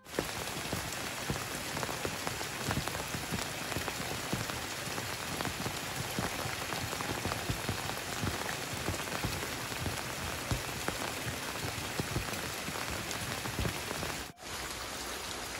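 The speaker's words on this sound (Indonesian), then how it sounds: "hujan teh rada lembut sahabat namun ini teh kerep lembut" Light but dense rain falls steadily over a quiet village, a continuous even patter close by with no voices, briefly dipping for a moment near the end.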